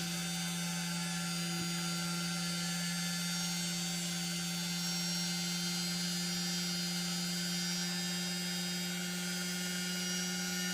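An electric drill bores into a crystal for a handmade necklace, a steady whining hum holding at close range with no pauses or talk.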